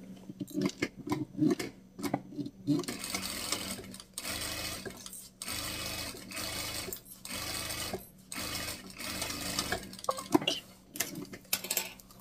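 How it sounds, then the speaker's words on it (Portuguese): A sewing machine runs a straight stitch with backstitching on a fabric phone holder, loud close bursts of rapid needle whirring separated by short pauses and clicks as the direction changes. "Eu desviro e passo uma costura reta com retrocesso aqui dos dois lados também."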